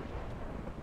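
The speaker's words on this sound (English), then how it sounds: "That was lightning." Lightning thunder in a Minecraft Mario Kart map, a dense, low rumbling roar with a rain-like hiss that stays steady and fairly quiet for a brief moment.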